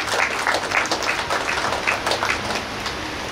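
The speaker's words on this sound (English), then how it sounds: "Another round of applause" Wedding guests applaud during a ceremony, a dense wash of clapping from a fairly close crowd that runs steadily across the whole moment with no talk over it.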